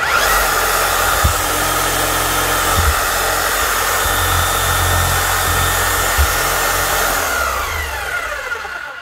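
A Makita HR0870C 110-volt rotary hammer drill runs steadily and loudly close by, its continuous motor whine broken by a few brief knocks, then winding down near the end.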